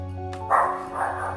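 Pet dogs bark indoors, two muffled barks in quick succession over a constant low electrical hum.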